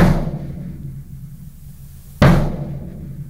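Gran cassa concert bass drum struck twice, each a deep, booming hit with a long, slowly decaying resonance, the second blow landing about two seconds after the first in an otherwise quiet space.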